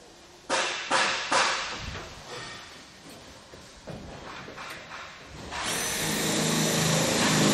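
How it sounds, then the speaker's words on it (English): A power drill whirs in several short bursts, then runs steadily for a couple of seconds, close by with no talking. "And then we'll grab our drill."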